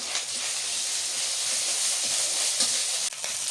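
Dried fish frying with chili and onion in a village kitchen, a steady loud sizzle and hiss of hot oil, close and continuous, with a faint stir or clink near the end.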